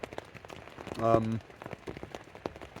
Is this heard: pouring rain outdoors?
yes